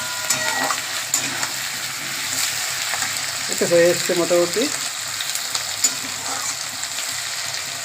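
Potatoes, pumpkin and onion frying in a pan, a steady broadband sizzle with a brief burst of stirring scrapes midway, while a voice speaks briefly over it.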